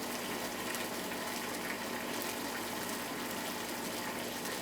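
Tap water runs steadily while tea is being brewed, a continuous, even gush of flowing water with no breaks for nearly five seconds.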